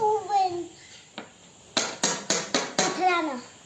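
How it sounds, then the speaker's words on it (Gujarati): Five sharp, hard knocks in a quick irregular series as stones strike each other, with a voice before and after. "પથ્થરનો અવાજ છે"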